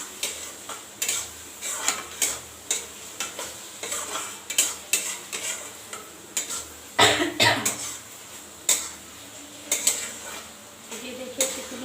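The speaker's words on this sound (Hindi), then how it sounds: "मिक्स कर देते हैं।" A spoon stirs black pepper into a paneer curry in a pan, giving repeated rhythmic scraping and clinking strokes over a soft sizzle, with a cough partway through.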